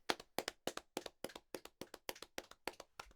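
Sharp, close hand claps repeat in an even rhythm, about a dozen in quick succession, with no voices.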